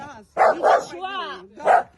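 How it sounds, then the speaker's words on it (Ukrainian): A dog gives a few short, close barks and a drawn-out whine or yelp between them while girls hold it back during a street confrontation in Odesa. "дівчата там із собакою, і видно, як вони його стримують"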